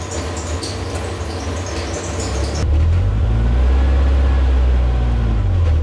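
Toyota MR2 engine idling and rumbling as the driver tries to get it into reverse gear, a steady loud low drone that deepens and swells partway through, with no talking.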